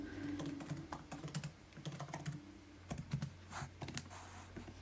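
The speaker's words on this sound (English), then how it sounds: "You can all see how bad my typing is now." Quick, uneven clicks of typing on a computer keyboard, close and quiet, in short bursts with brief pauses between.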